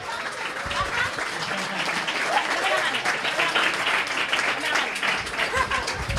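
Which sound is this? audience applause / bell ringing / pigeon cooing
audience applause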